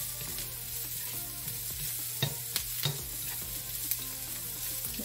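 Gambas prawns sautéing in a pan over high heat, a bright continuous sizzle with a few sharp utensil clicks and scrapes near the middle, close and alone.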